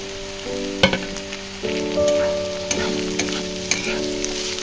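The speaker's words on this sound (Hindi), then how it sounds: "एबे मु काटी के रखिथिबा गाजर को पकई दोची" Onions and carrots frying in a pan, a soft steady sizzle with occasional sharp stirring clicks and scrapes, close and alone, with a faint tonal hum in the background.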